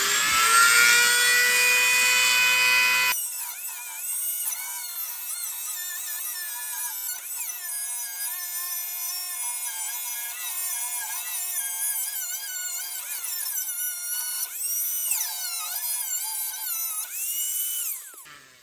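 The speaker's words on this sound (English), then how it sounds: "let's see if we can use the cutoff wheel" Abrasive cutoff wheel grinding through hardened muffler bolts on an M725 military ambulance, a loud high-pitched whine that starts harsh and full, then settles into a steady, wavering screech with pitch dips as the wheel bites, continuous throughout.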